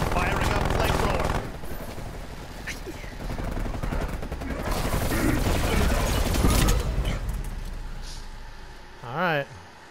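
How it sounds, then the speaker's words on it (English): Flamethrower fires in Call of Duty: Black Ops Cold War, a loud roaring rush of flame mixed with bursts of gunfire and battle noise, as someone talks over the din before a short electronic chirp near the end. "Firing up flamethrower."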